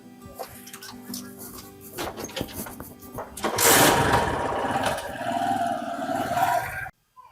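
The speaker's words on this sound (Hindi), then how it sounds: "देख लो रे, मोटरसाइकिल पे घूम रही बिरजू की छोरी।" A motorcycle engine starts with rattling mechanical clatter, then revs into a loud, steady buzzing drone that carries on close by before cutting off abruptly.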